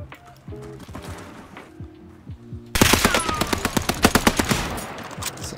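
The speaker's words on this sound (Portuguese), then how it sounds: "Essas armas do chão estão com recoil absurdo" Rapid automatic gunfire from weapons picked up off the ground in the Warzone video game rattles out, light and distant at first, then abruptly much louder in fast, steady bursts, with no talk.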